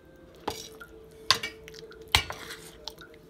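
Feta and cottage cheese filling with butter gets stirred in a bowl, a few sharp clinks of a utensil against the bowl separated by quiet scraping, close and with no talk.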